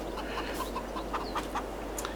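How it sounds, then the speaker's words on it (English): Small chickens in Farming Simulator 22 cluck softly in short repeated bursts over a steady low hum of background ambience. "We've got a few small chickens."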